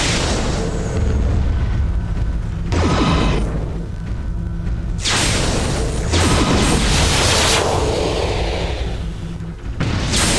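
Mech weapons in Mechwarrior 3 pound an enemy with a continuous, loud wash of blasts, booms and mechanical roar, surging in several heavy waves with no pause.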